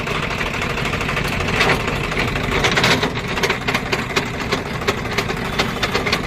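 A Swaraj 744FE tractor with its rotavator in neutral runs its engine and gearbox in a steady, close, mid-pitched rumble with a faint repetitive knock and rattle, without any talk.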